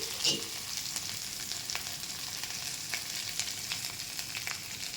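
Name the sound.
potatoes frying in mustard oil in a wok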